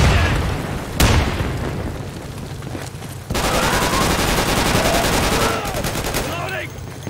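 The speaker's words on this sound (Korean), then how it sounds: "수류탄 소리가 계속." Gunfire crackles in rapid bursts alongside heavy booming grenade blasts in the shooter game Insurgency, on a co-op caves map, with a sharp loud crack and dense continuous firing while voices talk over the battle.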